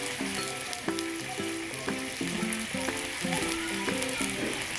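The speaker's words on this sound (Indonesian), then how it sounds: "terus sampai gulanya mencair ya, terus diaduk-aduk" Chicken and sugar are stirred in a pan for a dadar gulung filling until the sugar melts, with a soft continuous sizzle and light stirring scrapes beneath faint melodic background music.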